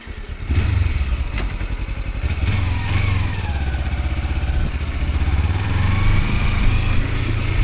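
A motorcycle engine runs steadily and close, a loud continuous low throb with rattly mechanical texture and slight rises in revs, heard alone.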